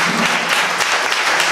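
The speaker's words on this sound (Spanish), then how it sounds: "Así que un aplauso para él porque" Audience applauding at a tribute event, a steady dense wash of clapping that fills the whole short stretch at even loudness.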